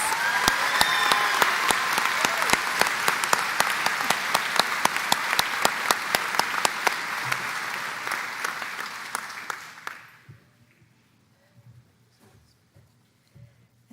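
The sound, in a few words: applause for graduates at a commencement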